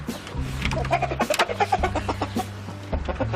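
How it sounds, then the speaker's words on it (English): A cockerel in Duckenfield crows and clucks in short, close bursts over a low background hum, with soft bird calls scattered through the few seconds. "Graham has managed to find a new owner for one of his cockerels"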